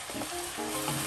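Onion sizzling in a frying pan while cooking spicy asado Kapampangan, a steady close hiss of frying throughout.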